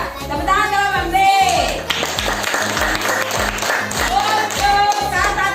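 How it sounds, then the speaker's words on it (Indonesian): Children in a primary school classroom clap for a student group, a burst of applause mixed with chatter and shouting voices, with rhythmic thumping beneath and a high voice rising over the noise. "Ya, tepuk tangan kelompok B."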